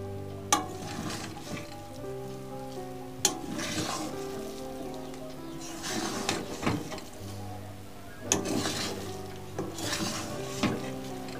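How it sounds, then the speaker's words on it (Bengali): A spoon scrapes and clinks against a pan as muri ghonto is stirred after garam masala and ghee go in, with soft frying underneath and several sharp metallic knocks at irregular intervals. "এবার ভালো করে মিশিয়ে নেব।"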